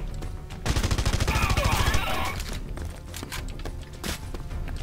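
Rapid automatic gunfire in the video game Red Faction Guerrilla: a fast close burst of shots in the first two seconds, then scattered single cracks fading out, with some game noise in the background.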